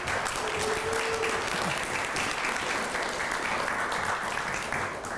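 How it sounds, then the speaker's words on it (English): Steady crowd applause for graduates at a spring speakers-school graduation ceremony, a continuous wash of many hands clapping at moderate volume throughout, with no talking over it. "can I get a round of applause for our graduates right now?"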